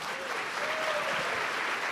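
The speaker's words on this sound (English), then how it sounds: "please give him a round of applause." A conference audience at a scholars' panel meeting claps steadily, a dense, even round of applause heard up close, with a faint voice briefly underneath.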